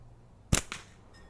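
A slingshot fired once with Genpu rubber bands gives a single sharp, close snap, followed by a fainter smack a moment later, in otherwise quiet surroundings.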